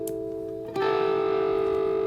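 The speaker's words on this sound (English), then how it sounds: "if you roll the volume off on this, you can get kind of like a ring mod sort of sound" A distorted, buzzing octave fuzz electric guitar note, with the guitar volume rolled off, rings out after a brief quieter tone, sustaining with a metallic, ring-modulated edge and a steady drone.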